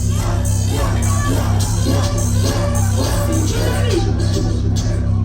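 A concert crowd at a show screams and cheers loudly and continuously for about five seconds, a dense roar over booming bass-heavy music with scattered shouts rising above it.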